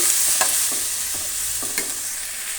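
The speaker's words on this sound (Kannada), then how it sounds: "ಇದು ಚೆನ್ನಾಗಿ ಫ್ರೈ ಆಗಲಿ" Chopped tomatoes fry in a pan with a steady hiss. A spatula scrapes and clicks against the metal a few times at irregular intervals, fairly close.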